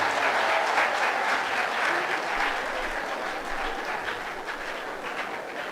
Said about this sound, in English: We'll give a big round of applause for all.